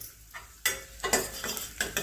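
Peeled almonds fry in a pan with a soft background sizzle, broken by several sharp scraping strokes of a spatula, close and fairly quiet with no speech.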